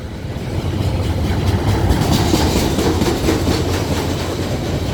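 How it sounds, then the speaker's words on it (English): An Alaska Railroad freight train, bound for Fairbanks, rolls past near Wasilla with steady, close clickety-clack of wheels over rail joints and a continuous rumbling drone throughout. "These are really long freight trains normally, like 120 to 130 cars long"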